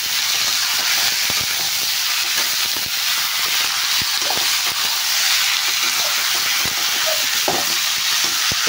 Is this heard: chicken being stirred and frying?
yes